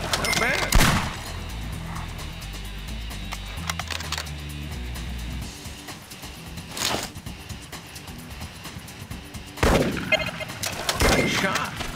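Rifle shots from the Cabela's Monster Buck Hunter hunting game, several loud sharp reports spaced seconds apart over a steady game background, with a voice talking between them.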